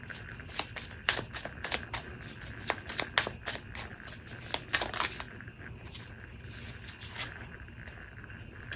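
A pocket tarot deck is shuffled by hand at close range, with rapid riffling card slaps and flicks coming in quick bursts against a quiet room.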